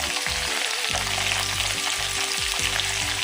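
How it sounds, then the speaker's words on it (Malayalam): Two chopped onions hit hot oil in a pan while cooking beef roast, giving a steady bright sizzle with repeated low clanks of stirring under it and no talking. "എണ്ണ ചൂടായി കഴിഞ്ഞു ഇതിലേക്ക് രണ്ട് സവാള അരിഞ്ഞു വെച്ചത് ഇട്ട് കൊടുക്കാം"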